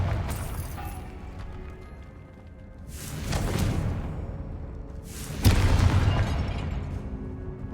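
Confringo blasting spell in Hogwarts Legacy cast inside catacombs, two heavy explosive booms with whooshing rushes a couple of seconds apart, the second louder and sharper, over low rumbling ambience with no speech.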